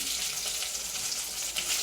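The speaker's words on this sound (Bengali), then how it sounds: "হয়ে গেছে মাছ ভাজা।" Fish frying in hot oil in a home kitchen, giving a steady, close hiss of sizzling that holds evenly throughout with no talk.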